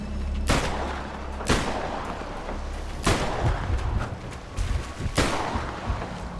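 Video game gunfire in Death Stranding, heard as four or five heavy, booming shots spaced about a second apart, loud and close over a dense rumbling background with no talk.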